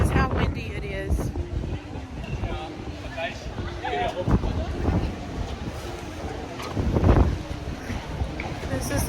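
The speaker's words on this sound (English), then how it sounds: "This is how windy it is." Strong gusts of wind buffet the microphone outdoors in Barcelona, a loud, rough, continuous rumble rising and falling in bursts, with people talking underneath.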